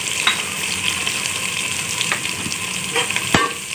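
Cumin, garlic, ginger and nigella seeds fry in hot oil for potato tahari, a loud, steady sizzle with a few sharp clicks of stirring, close and alone with no talk.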